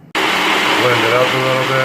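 An electric blender whirs loudly and steadily, blending ingredients for a coconut and chipotle bean stew that includes turmeric; the dense motor noise starts abruptly after a brief pause, and a voice speaks over it.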